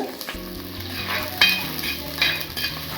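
Small shallots frying in oil in a pan for a Kerala-style crab curry, sizzling steadily up close while a spoon scrapes and stirs them in repeated strokes.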